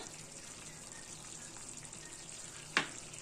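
Water hits a spice paste frying in oil for a jackfruit kofta curry: a steady low sizzle runs throughout, broken by one brief, sharp splash and hiss near the end, close and with no talking.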